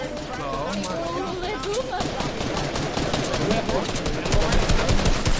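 Rapid bursts of Fortnite gunfire rattle continuously during a tournament match, with a voice talking over the shots and the firing growing louder toward the end.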